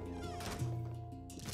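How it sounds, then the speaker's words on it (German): A kitten meows in the video game Luigi's Mansion 3: a short, drawn-out mew rises over a steady bed of game music and ambience, with no talking. "Da ist das Kätzchen."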